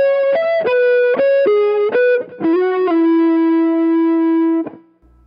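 Electric guitar plays a cascading pattern from a solo, a quick run of distorted notes stepping down, then one long sustained note ringing out alone before a short final pluck.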